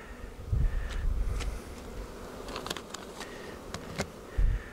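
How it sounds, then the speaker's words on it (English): Honeybees at a hive chew styrofoam to reach syrup, giving a faint close-up hum scattered with small crackling clicks and a few soft low thumps. "The bees are chewing the styrofoam here to get at the syrup."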